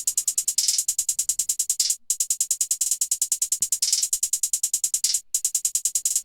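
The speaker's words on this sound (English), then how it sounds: "This is a 1-step hi-hat, and then there's a few rolls here, here, here." Soloed trap hi-hat pattern for a beat: rapid, steady ticking hats with short rolls, crisp and upfront with no other instruments, pausing briefly twice.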